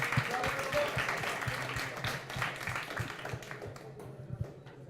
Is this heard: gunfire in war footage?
no